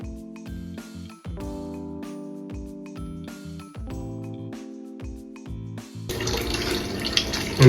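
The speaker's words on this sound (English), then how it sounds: "And this is how the professionals drain a water heater." Water draining from a clogged electric water heater, running in an uneven pulsing flow over a low hum, then turning into a louder, steady rushing gush near the end.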